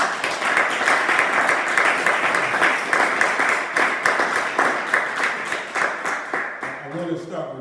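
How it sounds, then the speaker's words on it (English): A dense crowd round of applause fills a meeting hall at an FTP Movement gathering in Atlanta, steady and loud for about six seconds before thinning out and giving way to voices near the end. "First, I'll give OG a round of applause."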